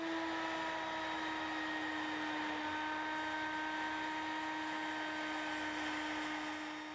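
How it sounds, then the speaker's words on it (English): A router table with a slot-cutting bit cuts a rabbet into a cherry wood frame, a sustained high, steady whine held close and loud for several seconds without talk. "we're going to be using a slot cutting bit here at the router table"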